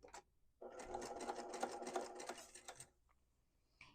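A sewing machine stitches a quilted tote bag in one close, rapid burst of rhythmic needle clatter lasting about two seconds, with quiet pauses before and after.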